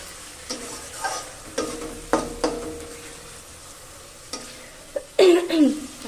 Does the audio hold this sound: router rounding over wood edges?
no